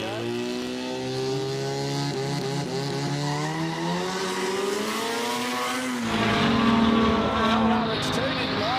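Car with passengers aboard on a quick street run at the Oz Aid event, engine climbing steadily through the revs with a rising tone, a brief shift, then roaring on, heard over a commentator talking.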